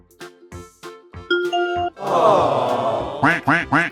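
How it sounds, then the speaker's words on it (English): A cartoon duck quacks in a few bright, nasal bursts, then in a quick run of three near the end, mixed with chime-like tones and a rushing whoosh. "Quack, quack, quack."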